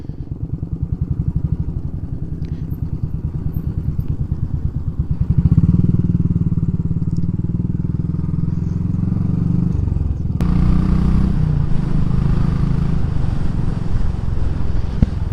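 A Royal Enfield Classic 500 single-cylinder engine thumps steadily while riding, with a rhythmic low pulse that swells as the revs rise and carries on with a rough, mechanical clatter.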